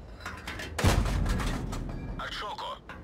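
A tank shell ricochets off armour in a tank video game featuring the Chaffee light tank: one sudden loud, sharp impact crack with a rumbling tail fading out, and a voice briefly near the end.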